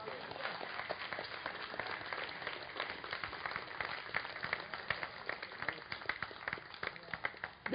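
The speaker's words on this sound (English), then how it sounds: "Give the Lord a clap offering." A church congregation claps together, a dense patter of many hands that runs on steadily and then breaks into scattered louder claps, with voices talking underneath.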